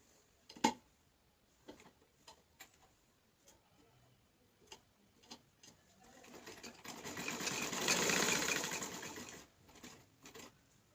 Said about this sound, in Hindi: तो चलिए मैं स्टार्ट करती हूँ इसकी स्टिचिंग।